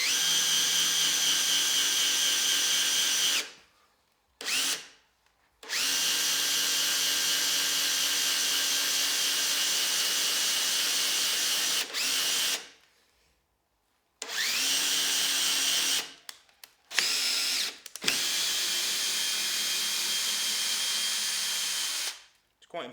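A power drill whines steadily in several long bursts, stopping briefly between runs, close and loud as it bores a hole 3 to 4 inches deep into a wooden tool handle.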